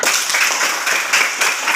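Classroom clapping from a group of students, a loud close burst of rhythmic applause sounding in a few quick pulses and filling the whole brief moment.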